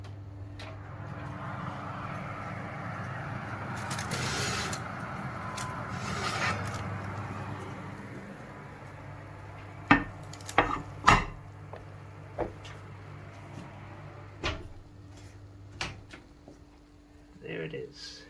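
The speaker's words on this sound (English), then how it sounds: "it's time for the focaccia to come out of the oven" Oven door and tray handling as a sourdough focaccia comes out of the oven: a low hum gives way to sharp wooden and metal clicks and knocks, several scattered close taps under faint background talk.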